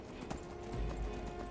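Horse hooves clip-clopping in Skyrim Anniversary Edition, a soft rhythmic trot heard faintly under a steady background ambience, with a low voice briefly present.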